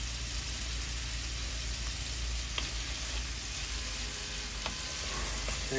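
Shrimp and onion fry in a pan with a constant, even hiss of oil, close and steady, with a couple of faint utensil taps and no talking.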